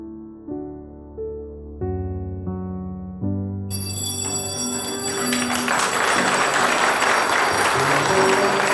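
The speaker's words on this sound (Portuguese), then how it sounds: "com o toque dos sinos anunciamos também a toda a cidade" Church bells ring out in a series of overlapping tolling strikes, building into a dense, loud, resonant clangor that sustains and swells.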